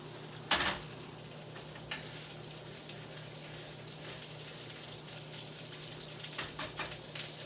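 Chorizo cooking in a pan gives a steady low sizzle throughout, marked by a sharp clatter near the start and a few scraping stirs toward the end, with no one speaking.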